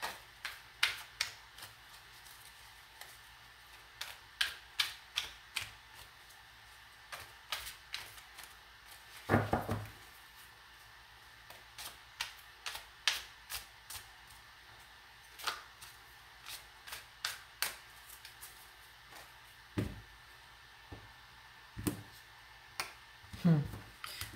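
Tarot cards are shuffled in quick bursts of crisp riffling and flicking, repeating irregularly at close range over a quiet background.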